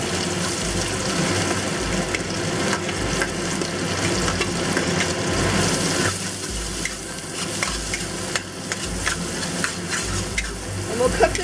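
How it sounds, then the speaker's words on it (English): Garlic and ginger fry in rendered bacon fat in a pan over medium heat, sizzling loudly and steadily up close while a utensil stirs and scrapes in repeated strokes. "we're going to use render fat to cook the garlic and ginger"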